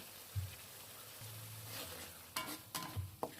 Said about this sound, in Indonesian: kita aduk supaya rata